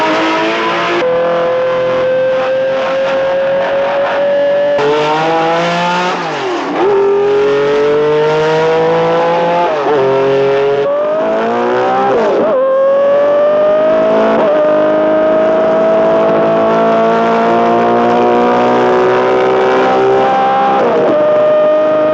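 Porsche 917 race car engine roaring and revving hard for a long stretch, pitch climbing and dropping through repeated gear changes around 8,000 RPM, loud and close with a harsh mechanical howl and no voices.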